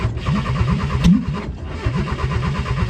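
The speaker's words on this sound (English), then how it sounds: "I'm only gonna start it for a little bit because it is loud, but it runs pretty good" A car engine with no exhaust fitted cranks briefly, catches and runs loudly up close with a rough, pulsing beat, flaring once early on before settling into a loud, uneven run.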